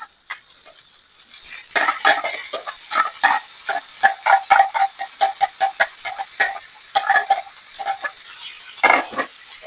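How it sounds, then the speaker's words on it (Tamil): Sprouted lentils tipped into a pan and mixed with a spoon, a close, busy run of rapid metallic scrapes and knocks that keeps going for several seconds, with no voices. "சேர்த்து நல்லா குளறி விட்டுக்கொள்ளுவோம்"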